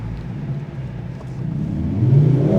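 Mercedes-AMG C63 S E Performance F1 edition with a four-cylinder hybrid engine revving, a loud close rumble that climbs in pitch into a rising whine toward the end, with no voices.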